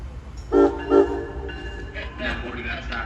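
An Amtrak train horn blows two short blasts at Newark station, followed by the low rumble and clatter of the train rolling in, with some faint background chatter.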